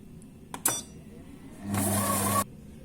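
A Monsieur Cuisine Plus food processor runs at speed 4 with its whisk attachment: after a couple of faint knocks, a short, moderately loud motor whir lasts under a second and then stops.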